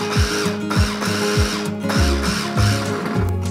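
An electric chopper pulsing parsley and onions for cinnamon meatballs gives a quick series of short, close motor whirs, each burst starting and stopping sharply in an uneven rhythm.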